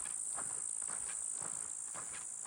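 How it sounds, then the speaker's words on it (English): Cicadas buzz in a sustained high-pitched drone near Ghost Ranch on the Continental Divide Trail, pulsing in regular rhythmic waves about twice a second, steady and moderately loud with no talking. "The cicadas are out."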